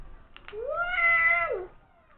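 A single drawn-out, high-pitched meow imitated by a voice, rising then falling over about a second, clear and close.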